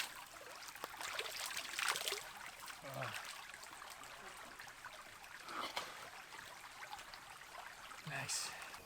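A creek runs steadily beside a patch of dead trees and roots, its soft trickling and babbling water flowing continuously at moderate distance with a few faint knocks and rustles.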